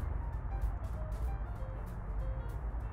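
A heavy truck engine in the game Truckers of Europe 3, hauling a very heavy load in the rain, holds a deep, steady rumbling drone with faint whining tones laid over it.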